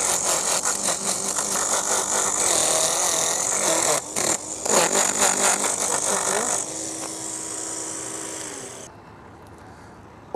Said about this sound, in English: How easy those scales fly off, folks.